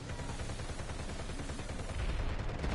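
Shotgun fire in the online shooter Planetside 2 rings out amid a dense, constant wash of battle noise, with heavy blasts blurring together in a loud, unbroken stream of gunfire.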